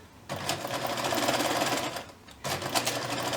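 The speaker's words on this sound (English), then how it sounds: "we're just going to sew at about 1/4 inch all the way around" A sewing machine stitches through both fabric layers about a quarter inch from the edge of a mini backpack keychain pouch, running in steady close bursts with a brief pause near the middle.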